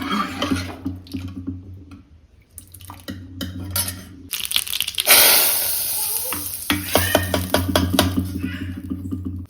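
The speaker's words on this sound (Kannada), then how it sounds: "ನೋಡಿ ಸಾಸಿವೆ ಎಣ್ಣೆ ಹಾಕಿ ಒಗ್ಗರಣೆ ಮಾಡಿಕೊಂಡೆ." A tempering hits hot mustard oil with a loud, sudden sizzling burst partway through, amid close stirring and pan clatter, over a steady low hum.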